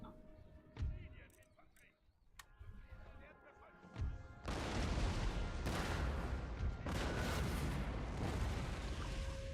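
Cannon artillery fire in a war strategy video game: a few sharp booms first, then a sustained, dense roar of gunfire and blasts that keeps going to the end, with a player talking over it.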